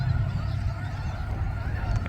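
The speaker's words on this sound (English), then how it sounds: "We have more geese flying on." Flock of snow geese honking as they fly over, a dense continuous chorus of overlapping calls heard outdoors under steady wind noise.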